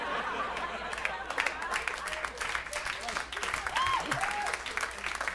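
Applause and murmuring chatter from a comedy theatre audience, moderate steady clapping with a voice speaking over it and a few scattered reactions.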